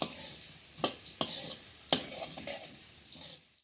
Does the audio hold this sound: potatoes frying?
yes